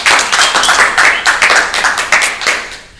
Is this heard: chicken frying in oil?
no